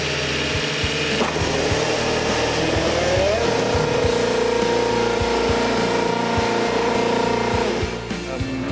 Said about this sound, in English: that's the first new Lotus Cosworth that's fired up for 27 years